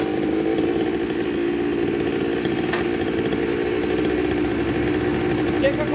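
A 49cc mini dirt bike engine runs steadily close by with a continuous buzzing drone throughout, and a voice talks briefly over it.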